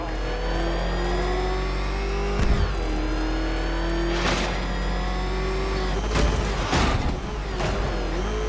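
Car engine revving in Batman: Arkham Knight, a loud sustained hum with pitch rising and falling, broken by several sharp mechanical bursts and thumps, no talking.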